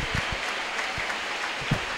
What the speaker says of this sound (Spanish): Aplausos generales,